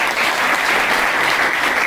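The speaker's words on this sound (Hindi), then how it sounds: "इनके लिए जोरदार ताली" A classroom audience applauds a student in a dense, continuous wave of clapping, loud and close, with no speech over it.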